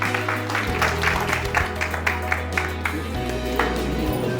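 An audience at a literary award ceremony with visiting writers from Bhutan breaks into scattered, moderately loud applause over a steady low hum, the claps coming as separate uneven bursts.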